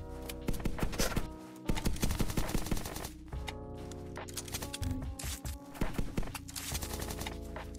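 UMP submachine gun fire in the Zombsroyale video game comes as rapid, loud bursts of automatic shots in several volleys with short pauses between them, over game music.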